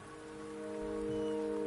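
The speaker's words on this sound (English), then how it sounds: "The rain is subsiding," Rain falling in the video game Wuthering Waves, a soft steady patter of rain that swells slightly louder, blended with sustained game music tones.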